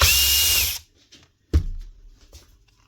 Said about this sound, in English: And just quickly take them out with the drill.